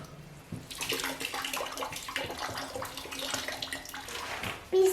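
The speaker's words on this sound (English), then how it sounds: "Since the water came out from the bottom, it's because it's peeing." Water streams out of the bottom of a small container, a close, continuous splashing trickle with a voice briefly heard near the end.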